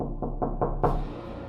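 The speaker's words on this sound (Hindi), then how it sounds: "अचानक आधी रात को उसके दरवाजे पर किसी ने जोरों से नॉक किया" Four loud, heavy knocks on a door come in steady succession, the last one hardest, then ring out into a dim, tense room tone, as in a horror story scene.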